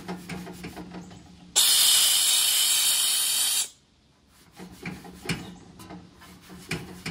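A GRANT'S 1200-watt handheld steam cleaner releases one loud, continuous hiss of spraying steam for about two seconds, then cuts off abruptly among quieter clicks and handling noises.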